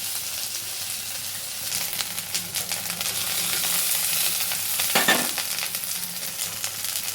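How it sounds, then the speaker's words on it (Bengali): Ground spice paste with ginger paste frying and being stirred in a little oil for rohu fish curry, a steady close sizzle with a brief louder scrape of stirring near the end. "ভালো করে নাড়াচাড়া করবো।"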